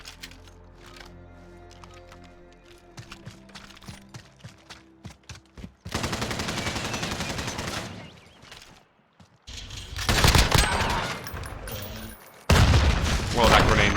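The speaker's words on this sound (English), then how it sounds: "that grenade nearly got me" Grenade blast and gunfire in Call of Duty: Modern Warfare (2019), starting with scattered sharp shots, then a sudden loud sustained burst of automatic fire and explosions, a brief lull, and more heavy rattling volleys and booms toward the end.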